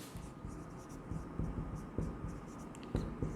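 A pen scratches across paper in short, repeated strokes, quiet and close, over a low steady hum.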